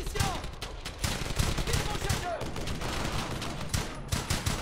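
Rapid bursts of squad machine-gun fire crackle almost without pause in the World War II shooter Brothers in Arms: Hell's Highway, loud and close, with a few brief lulls between volleys and a voice talking faintly underneath.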